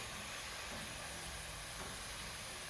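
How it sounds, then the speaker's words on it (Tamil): Herbal Ponnanganni oil boiling and frothing in a pan gives a steady, dense hiss and fizz that stays even and close throughout, with no voices. "பாருங்கள் எப்படி கொதிக்குதுன்னு பாருங்கள்."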